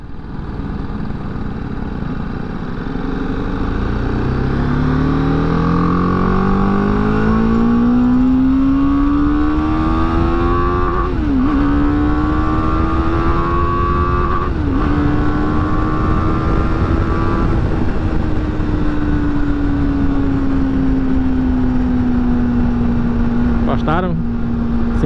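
A BMW G310GS motorcycle engine revs up steadily to about 6,000 RPM, its pitch climbing and holding high with brief dips, loud and close throughout.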